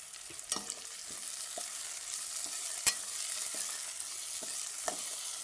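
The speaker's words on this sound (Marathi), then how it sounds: "आनी टोमाटूय बरें हण्णा भाजून काडया." Tomatoes frying in a pan for a simple Goan daal, a steady close sizzle broken by occasional sharp clicks and scrapes of stirring, with no voices.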